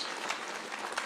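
An audience at a Tangaza University graduation ceremony in Nairobi applauds President Ruto, a brief burst of dense, continuous clapping with a few sharper individual claps standing out.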